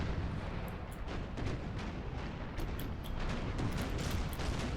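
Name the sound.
naval cannon fire from ships in Empire: Total War video game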